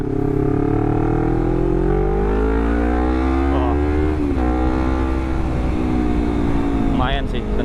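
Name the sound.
Honda CBR250RR motorcycle with WRX GP3 exhaust revving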